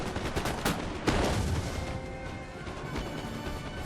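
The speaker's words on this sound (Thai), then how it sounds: "นั่นคือแก๊งอังกฤษที่พยายาม สาดกระสุนใส่บรรดา แก๊งฝรั่งเศสอยู่นะครับ" Scattered musket volleys and shots crackle from Total War: Napoleon as British troops fire on French lines, sharp bursts at about 0.7 and 1.1 seconds over a steady distant din of battle.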